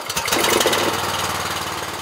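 A high-pressure drain washer's engine starts up and settles into a steady, loud mid-pitched running drone with a rough pulsing rhythm, close by.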